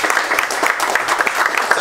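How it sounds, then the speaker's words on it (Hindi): Brief burst of audience clapping at an Indian Android CPU competition event, moderately loud and uneven, with a voice briefly heard over it. "भाई तालियां"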